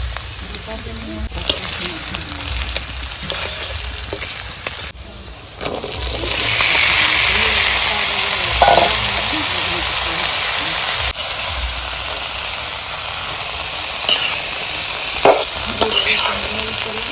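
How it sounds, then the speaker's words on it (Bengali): Potatoes and onions fry in oil in a wok, a close sizzle that swells louder partway through after more goes in, with clattering stirring and some voices in the background. "এখানে মা আলু ভাজা চাপিয়ে দিয়েছে, তেল দিয়ে দিয়েছে কড়াইতে"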